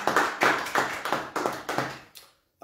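A church congregation claps in praise during an intercession service, about six strong rhythmic claps in even time, then a pause and one last faint clap.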